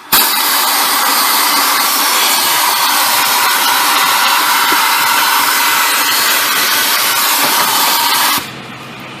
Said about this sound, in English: Little air tool vacuum cleaner.